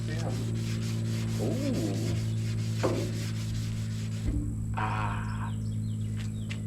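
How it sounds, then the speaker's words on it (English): Steady rubbing and scraping of sandpaper on a surface continues throughout over a constant mechanical hum, with a brief exclamation from a person. "So I'm gonna get to sanding."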